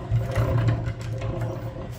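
A hand-cranked honey extractor spinning honey frames, a steady low mechanical whir and hum with a light rhythmic rattle, close and continuous with no talk.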